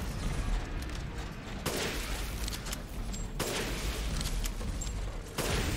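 Repeated loud gunfire bursts from Resident Evil Village, with dense broadband blasts and a steady roar, three sharp volleys spaced across the stretch.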